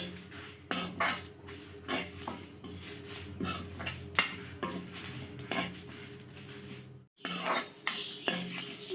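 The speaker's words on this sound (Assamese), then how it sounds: "এতিয়া মই এই মছলাখিনি শুকানে অলপ ভাজি ল'ম" A metal spatula scrapes and clinks against a hot kadai as spices dry-roast for an Assamese pickle, in irregular stirring strokes, close and crisp, with a brief pause near the end.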